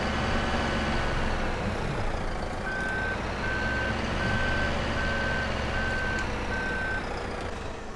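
Manitou telehandler in Farming Simulator 2017 reversing, giving a steady series of evenly spaced electronic beeps over a continuous engine drone and yard noise.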